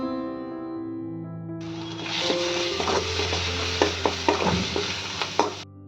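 Masala of salt, chili powder, coriander powder and chole masala frying with tomato puree in a pan, a broadband sizzle that starts partway through, with repeated scrapes and knocks of stirring over steady background tones.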